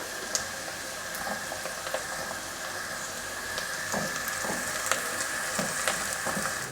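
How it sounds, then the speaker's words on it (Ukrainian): Carrot and onion fry steadily in a pan for a soup, a soft continuous sizzle with scattered crackles and occasional stirring scrapes, moderately quiet and close, with no voices. "Морква з цибулею трошки піджарилися в мене."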